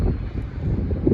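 Wind buffets a microphone outdoors at a car dealership on a blustery day, a steady low rumbling roar with no voices, continuous and fairly loud throughout.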